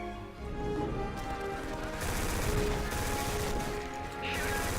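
Rapid gunfire and bullet impacts from the first-person shooter Black, continuous and dense with crashing debris, heard under a narrator's voice.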